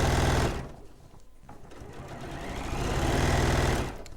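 Sewing machine stitching closes a turning gap on a poppy fabric panel, the motor's rapid whirring running in loud bursts, easing off briefly in the middle before picking up again.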